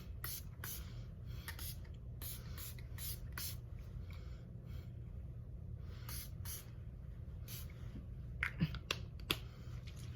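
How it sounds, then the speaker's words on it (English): Pixie Glow Mist setting spray is misted onto a face in a series of short, close hissing bursts, several quick puffs in a row with brief pauses between them. "now to set this makeup with my Pixie Glow Mist"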